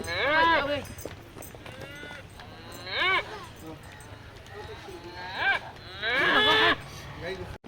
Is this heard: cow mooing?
yes